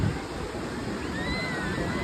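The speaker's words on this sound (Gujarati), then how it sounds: "હવે સામેથી જો તરે કેમ કેવડા મોટા મોટા મોજા આવે" Steady rushing roar of surf washing in, broad and continuous with a wind-blown hiss throughout.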